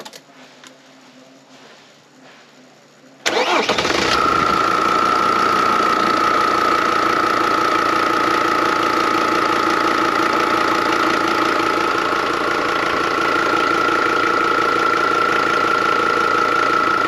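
Mercedes W210 E290 with OM602 diesel engine, heard close up after injection pump timing work: a quiet start, then the engine suddenly fires and settles into a loud, steady, clattering diesel idle with a high whine running through it.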